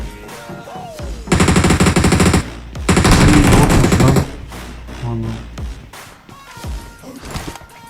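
Bursts of rapid automatic gunfire aimed at a zombie in a shooter video game, two long loud volleys with shorter shots after them, and no talk.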